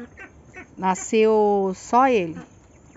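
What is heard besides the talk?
ducklings quacking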